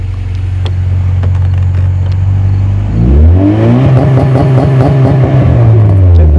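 An engine-swapped Honda Accord with a big exhaust, loud and close, idling with a steady low drone, then revving up with rising and falling engine pitch under the exhaust's rumble.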